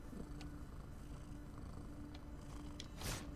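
A cat purrs steadily in the video game Moonscars, a soft continuous rumble over a noisy game backdrop with no talking.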